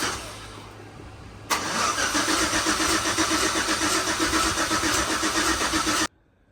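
A Nissan S13 with a new exhaust cranks briefly, then catches and settles into a loud, steady idle that runs for several seconds before cutting off abruptly into silence.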